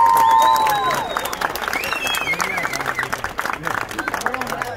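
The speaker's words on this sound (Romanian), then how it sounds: "Haideți, un rând de aplauze! Aplauze!" Crowd at an autumn car tuning show in Deva claps and cheers outdoors, a busy mix of scattered applause and voices, with a voice calling out over it at the start.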